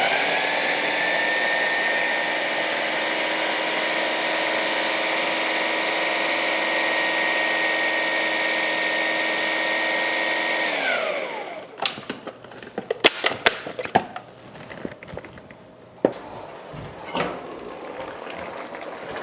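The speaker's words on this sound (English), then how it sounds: "I'm using the food processor." A food processor whirs steadily and loudly while chopping okra, its motor tone holding for about ten seconds before winding down, followed by scattered clicks and clatter of the bowl and lid.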